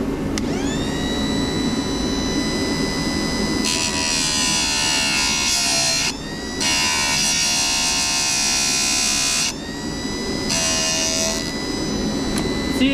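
A Chicago Electric chainsaw chain sharpener from Harbor Freight runs with a constant high motor whine. Several louder, harsher grinding bursts come and go over it, and no voices are heard.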